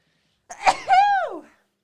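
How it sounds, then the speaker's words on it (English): A single close sneeze: a sharp burst followed by a drawn-out, voiced exhale that trails off, with silence around it. "You're not supposed to sneeze."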